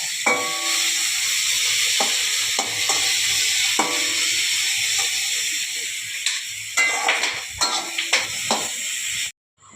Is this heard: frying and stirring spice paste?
yes